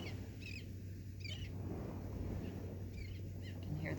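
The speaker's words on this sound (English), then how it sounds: "You can hear the birds and the ocean" Small birds chirp in scattered short bursts over a steady, broad wash of ocean surf at a meditation spot, with the wave noise continuous and the bird calls coming and going throughout.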